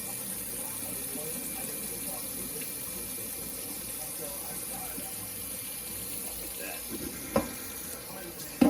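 Tap water runs steadily into a pan on the stove for steak gravy, a soft continuous stream heard fairly close, ending with a couple of sharp clanks near the end.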